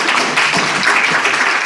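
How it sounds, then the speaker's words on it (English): Applause from the audience at a neighborhood council meeting, a steady dense patter of clapping filling the room for a short burst without talk. "Let's give a round of applause to Parks."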